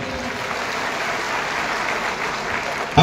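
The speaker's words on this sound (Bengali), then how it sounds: "আমরা স্যারের উদ্দেশ্যে একটি জোরে করতালি মারি।" An audience claps for a professor at a university literary society event, dense steady applause sustained throughout at close range.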